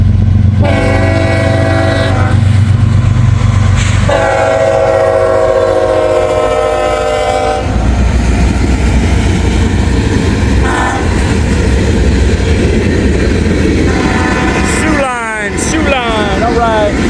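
A CSX freight train rolls through a level crossing, its horn blaring in long loud blasts over the rumble and clatter of wagons, with crossing bells ringing near the end.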